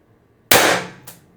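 A single sharp Beeman BP50 air pistol shot fired with a 4-gram load during a spring test, a loud close crack that decays over half a second, followed by a brief fainter rattle, with no talk.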